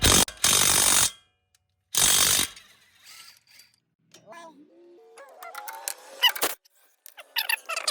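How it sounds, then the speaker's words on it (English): Two loud bursts of an impact wrench remove 19 mm bolts from the back of a brake caliper on a Nissan Xterra Pro 4X, each about a second long, followed by quieter clinks, ratcheting and metallic handling noises. "Next thing we're gonna do is take the two 19 bolts out of the back of the brake calipers"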